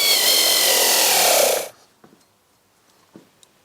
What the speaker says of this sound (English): All what's left now is to lock down this bolt and the two nuts on the shackle